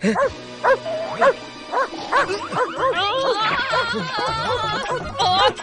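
Cartoon-like dog barks and yips in a Hindi comedy episode, several bouncy bow-wow calls in a regular rhythm, then a rising whimpering stretch before more barks, close and clear.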